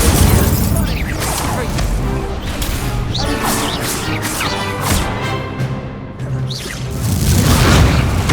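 Incendio fire spells in Hogwarts Legacy go off in quick succession, loud booming whooshes and crackling bursts layered amid combat clatter, with a spoken voice briefly heard.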